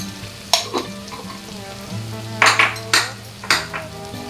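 Turmeric, cumin and coriander sizzle in a hot pan with tomatoes for a mourola fish curry, a steady close fry broken by several sharp clinks of a spoon stirring against the metal.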